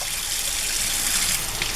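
Water trickles and splashes steadily while scrubbing sponge pads are rinsed out after washing with laundry detergent, a close, continuous wet running sound with no talking.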